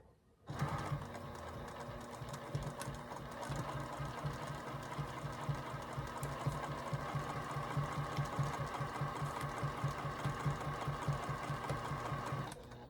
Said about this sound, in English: All I'm doing is just sewing it down on the edge.